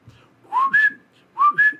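A person whistles two short rising chirps in imitation of little creature whistles, each a quick upward glide, close and clear against near silence.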